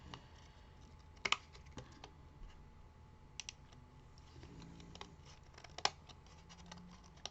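Scissors snip through leftover scraps of paper for an autumn card, giving a few sharp, sparse cuts and faint rustling in a quiet room.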